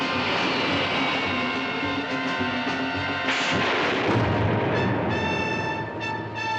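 The Batzooka fires at a tank in the 1960s Batman TV show, a loud sustained blast and roaring rumble with layered engine-like drone and crackling bursts and no dialogue.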